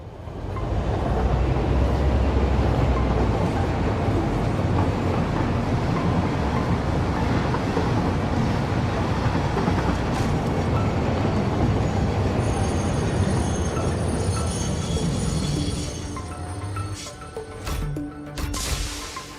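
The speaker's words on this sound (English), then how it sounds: "Can we drive a train in photo mode?" A train running on rails in the video game Satisfactory, with a steady, loud rolling rumble and wheel noise throughout that eases slightly near the end, alone without talk.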